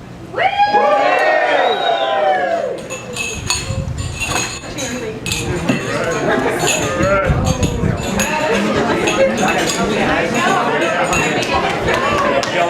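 Wedding guests clinking glasses during a toast, bright repeated chinks and rattles amid a lively crowd with cheering and talking throughout.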